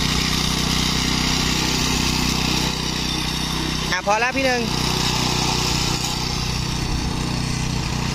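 An old Japanese Honda walk-behind lawn mower's small engine drones steadily and loudly, close by, with a brief spoken voice cutting in partway through.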